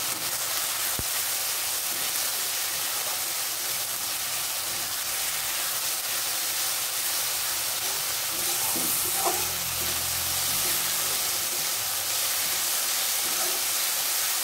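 Ginger and garlic fry in a pan while being stirred, a steady close sizzle and hiss with soft scraping and a few clinks, continuing evenly without speech.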